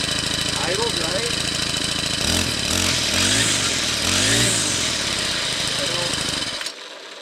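A Craftsman WS4200 string trimmer running on Fix It Fuel roars loudly and steadily nearby, its engine buzz dense and continuous before cutting off abruptly near the end.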